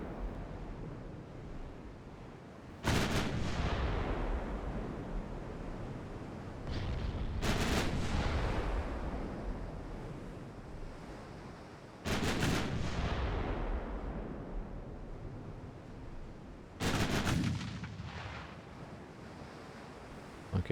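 Heavy naval guns aboard warships fire in Ultimate Admiral Dreadnoughts, with four booming salvos spaced about five seconds apart. Each blast is sudden and loud, then trails off in a long rumbling decay over a constant roar of sea and wind.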